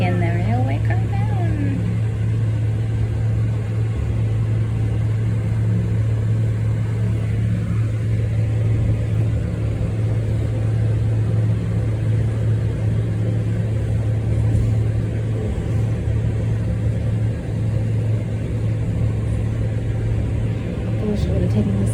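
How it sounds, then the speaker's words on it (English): Downhill railway car ride at Ghibli Park in Japan: a loud, steady mechanical rumble and hum runs unbroken throughout, with no pauses and no voices. "We're taking the railway car down."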